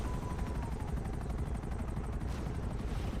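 A helicopter in GTA Online makes a steady, dense rotor thrum with rapid chopping pulses, loud and continuous throughout with no speech over it.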